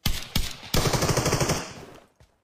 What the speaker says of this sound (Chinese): 等他突然开枪的时候，也是直接吓了我一跳